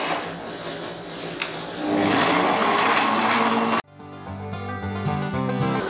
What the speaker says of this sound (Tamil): ஸோ இதையும் வந்து ஒரு 1 மினிட் வந்து பீட் பண்ணிடலாம்.